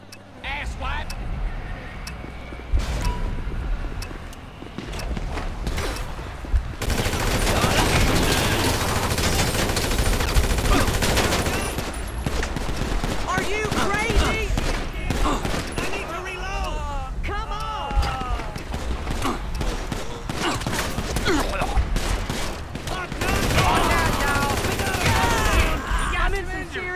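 Gunfire during a GTA 5 shootout against a biker gang, with rapid bursts of automatic shots and single cracks layered over engine noise and frequent shouting voices throughout.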